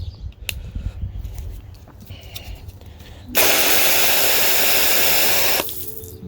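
An Ohuhu foam gun on a hose sprays plain water while cleaning the wheels of a Honda, making a loud, steady, close hiss that runs for about two seconds before cutting off, with no talk.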